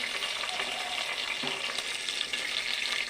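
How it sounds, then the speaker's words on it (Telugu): Curry leaves sizzle in hot oil at the start of a chicken curry, a steady crackling fry that runs throughout, close and moderately loud, with a soft stirring scrape about halfway. "నేను ఇదిగోండి కొంచెం కరివేపాకు వేసాను చికెన్ కర్రీకి."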